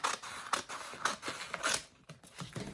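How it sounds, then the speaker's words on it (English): Scissors snipping through fabric for an embroidered oven mitt, a series of sharp, close, rhythmic cuts spaced roughly half a second apart with no talking. "I'm gonna take this and cut it in half here"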